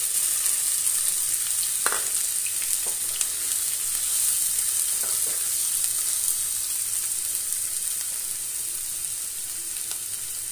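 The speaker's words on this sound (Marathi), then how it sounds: "कांदा मी लाल होईपर्यंत परतून घेणार आहे" Four finely chopped onions sautéing in oil in a pan for a Marathi mushroom masala, giving a steady, fairly loud sizzle throughout with a few soft clicks of a spoon against the pan; no talking.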